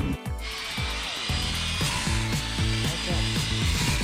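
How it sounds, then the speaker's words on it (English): An angle grinder fitted with a 36 grit disc grinds rust from a car body panel, a harsh, steady, close-up whine with rhythmic pulsing rasps as the disc bites and lifts, with no voices. "I'm using a 36 grit disc on my grinder here, and we're just cleaning everything out."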